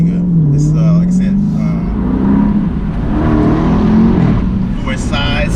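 A 2017 Daytona car's engine pulls and revs through gear changes on the road, its rising and falling drone loud and close beneath someone talking over it throughout.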